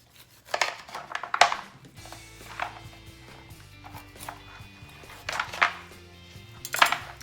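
A knife cuts racks of pork ribs in half on a board, giving several sharp cracking chops and clinks in irregular bursts, with soft rustling between them.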